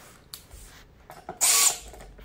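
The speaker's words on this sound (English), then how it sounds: "So, got the drill going here." A power drill drives furniture bolts during flat-pack assembly, giving one short loud whirring burst after a few faint clicks and taps, heard up close with no talking.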